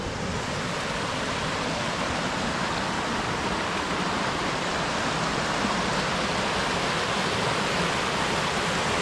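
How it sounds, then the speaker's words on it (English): A small waterfall in a brook at Steep Falls, Maine, pours with a steady, dense rush of white noise, close and unbroken throughout, with no voices. "Waterfall."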